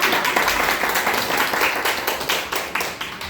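An audience at a church summer family retreat lecture claps together, a dense steady applause that stays loud and close for the whole stretch, with no talk over it.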